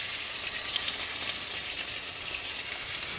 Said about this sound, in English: I've already put about a tablespoon of oil into my pan, and it's heated up, and I'm going to start layering these in.